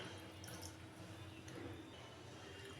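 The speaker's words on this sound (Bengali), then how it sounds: "দিলাম আরও অল্প করে একটু জল" A small splash of water poured into a Bengali steamed egg curry (dim bhapa) coated in spice masala gives a faint, close trickle with a few soft drips. Nobody speaks.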